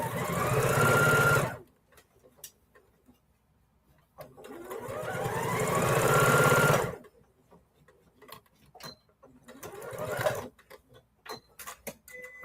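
A sewing machine stitches quilt block seams in three separate runs: a short burst, a longer run that speeds up, and a brief final spurt. Quiet pauses with small handling noises fall between the runs.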